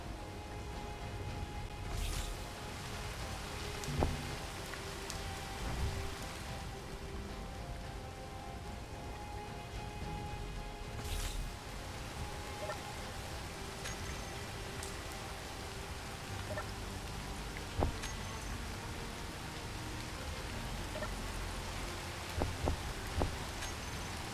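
Continuous rainfall in the video game Space Engineers, a soft, even hiss of drops hitting surfaces, with a few faint sharper ticks and taps scattered through and no talking.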